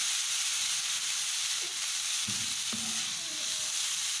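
A spoonful of ghee heats in a pan on the stove while making a radish paratha, giving a steady, close, loud sizzling hiss with a few faint clinks partway through.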